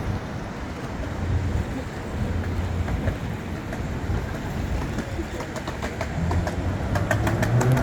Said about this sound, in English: The river is raging, the Truckee River.